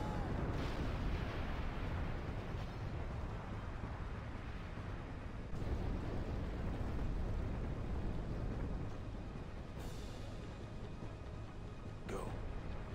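Explosions in Final Fantasy X HD Remaster, set in Zanarkand, form a sustained, heavy rumbling roar with fresh blasts bursting in every few seconds, loud and dense throughout.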